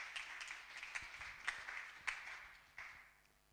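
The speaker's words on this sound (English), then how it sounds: "So let's clap for Design Revival once more." An audience claps for Design Revival at a Hult Prize event, a steady spread of handclaps from a modest crowd with a few sharper claps standing out, fading toward the end.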